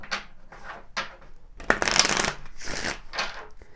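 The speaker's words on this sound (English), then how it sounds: "Let's pull some Kipper cards." Kipper fortune-telling cards shuffled and drawn at close range, several quick riffling bursts followed by a louder, longer run of card shuffling, with no talking.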